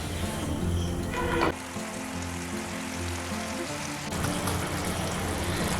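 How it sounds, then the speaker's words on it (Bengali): Green banana pieces simmer with a little water in a pan over a medium flame, giving a steady close sizzle and bubbling with some stirring scrapes early on, and no one talking. "আবারও একসঙ্গে ভালো করে মিশিয়ে এইভাবে 2 মিনিটের মতন মিডিয়াম ফ্লেমে রান্না করে নিতে"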